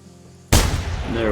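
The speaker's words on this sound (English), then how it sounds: "There we go, that should have been a good shot." A single loud rifle shot fired at a stag in the hunting game theHunter Classic cracks suddenly after near silence, then a long rumbling echo lingers and fades.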